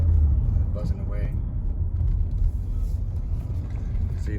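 A 1985 Nissan 300ZX, an old race car, drives past at speed with a steady low engine rumble and road drone throughout.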